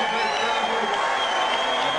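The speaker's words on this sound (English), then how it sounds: "An appreciative audience in the sold-out Copa Room in the Sands applauding these two warriors" A sold-out crowd in the Copa Room at the Sands applauds two boxers late in a 15-round bout, steady loud clapping and crowd noise filling the room without a break, with no voices standing out.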